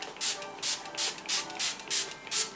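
Make Up For Ever Mist & Fix setting spray releases about eight quick, close, hissy pumps of fine mist in a steady rhythm.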